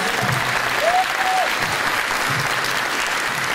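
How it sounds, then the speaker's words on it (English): An audience at a school ribbon-cutting ceremony gives a round of applause for performing children. The clapping is steady and sustained, with a brief whistle-like tone near the start and some crowd murmur underneath. "Let's give another round of applause."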